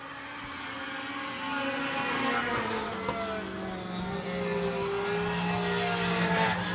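Three race cars battle closely on a track, their engines blending into a steady, moderately distant roar that rises and falls slightly as they circle.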